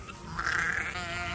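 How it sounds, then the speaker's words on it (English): Sheep on a farm bleating as they come in to pasture, a single drawn-out wavering bleat, moderately close, over quiet outdoor background. "Come on, sheep."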